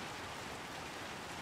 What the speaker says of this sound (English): That's a loud rain.